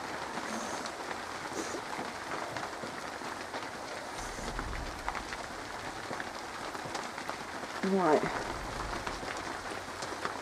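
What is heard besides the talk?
rain falling outdoors on a garden plot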